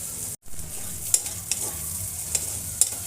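Onions frying in oil in a pan until lightly reddened, for a crab and potato dish. A soft steady sizzle is broken by a brief dropout and a few sharp utensil clicks, with no talking.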